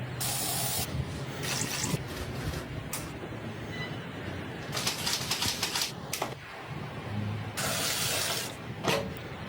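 A corner cleaner sprays in a few short, crisp bursts at close range, the hissing spritzes separated by brief pauses, with no voices.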